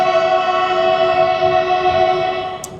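Diesel locomotive horn on the Sairang Express, a loud sustained harmonic blast held steadily near the listener, with a brief high click at the end.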